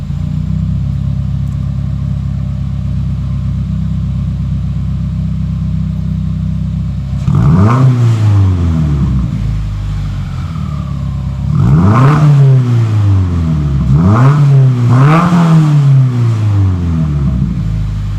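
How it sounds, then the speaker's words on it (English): A Subaru engine fitted with a Carven cat-back exhaust idles with a low rumble, then revs up several times in sharp bursts, the exhaust roaring and falling back between each rev. "We're gonna do some revs here."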